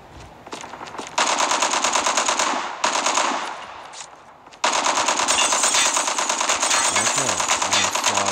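Call of Duty automatic gunfire rattles in long, dense sustained bursts, loud and close, broken by a couple of short pauses, with faint game sounds underneath.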